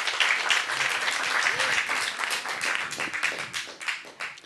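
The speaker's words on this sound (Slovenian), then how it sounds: "en aplavz" Audience applause at a jazz concert in a club, a dense, continuous patter of many hands clapping that stays fairly loud throughout and tapers slightly toward the end, with a few faint voices mixed in.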